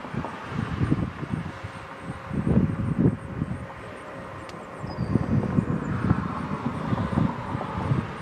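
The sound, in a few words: Boeing 717 jet engine taking off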